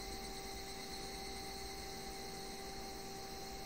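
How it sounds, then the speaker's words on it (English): Cicadas in the Higurashi video game drone in a steady, unbroken high-pitched buzz with sustained tonal lines, continuous and fairly faint throughout, with no voices. "Only the cry of the cicadas remained annoyingly loud"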